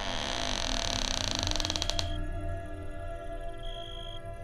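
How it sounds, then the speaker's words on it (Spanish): A room door creaks slowly open as a sound effect: a loud, drawn-out grinding creak lasting about two seconds breaks off into a fading, ringing tail, with no voices. "Escuché el sonido de la puerta del cuarto abriéndose lentamente."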